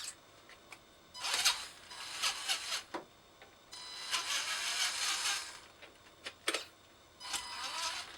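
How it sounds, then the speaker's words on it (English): A shift servo on an RC4wd Cross Country RC crawler chassis with a Black Rock body changes gears, giving several short whirring, buzzing bursts separated by brief pauses, close and fairly quiet, with no talk. "Let's check out that shift servo."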